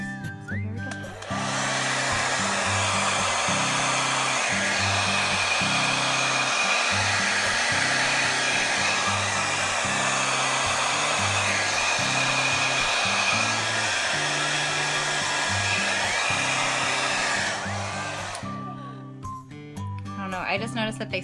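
A hair dryer on a medium heat setting, aimed upward at the hair, blows as a loud steady roar for about 17 seconds, then cuts off.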